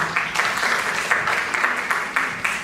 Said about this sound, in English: give you guys a round of applause, please